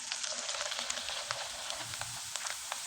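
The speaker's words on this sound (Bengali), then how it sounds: "এখন আমি আপনাদের কয়েকটা পিঠা ভেজে দেখিয়ে দেব।" Jhorna pitha fry in hot oil, a dense continuous sizzle with scattered crackling pops throughout, close and steady, no voices.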